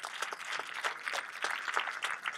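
An audience at an evening beauty pageant event claps steadily, a dense, even patter of many hands sustained throughout at moderate volume, with no talking over it.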